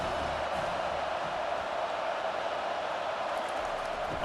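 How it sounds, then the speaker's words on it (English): Steady, dense roar of a stadium crowd in EA Sports College Football 25, holding loud and even on a third-down defensive stand. "Decibels rising as the crowd gets behind this defense on 3rd down."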